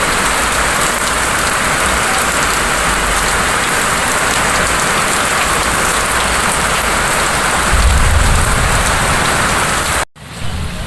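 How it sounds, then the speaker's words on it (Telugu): Steady, loud rain pouring down continuously at night, a dense hiss of drops on surfaces that cuts off abruptly near the end. "ఇటు పడుతుంది వర్షం ఇటు సైడ్"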